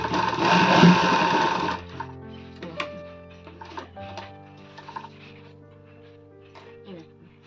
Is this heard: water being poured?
no